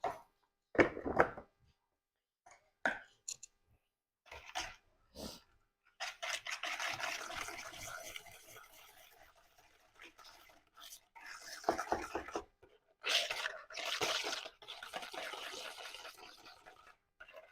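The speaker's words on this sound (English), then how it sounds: "I'm going to add a 1/4 cup of sugar, and then I'm going to whisk it until it's combined." A wire whisk scrapes and swishes around a bowl, stirring sugar into a vanilla bean ice cream base. It starts with a few short scraping strokes, then settles into sustained, brisk whisking at close range with no talking.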